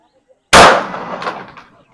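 A single loud, sharp crack from a 9mm pistol fired at a shooting range, close and alone, with a brief ringing decay after the shot.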